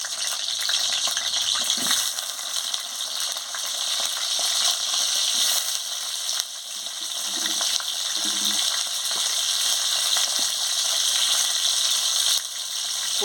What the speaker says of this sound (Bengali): আমি পটলটাকে তেলে একটু ভালো করে ভেজে নিচ্ছি।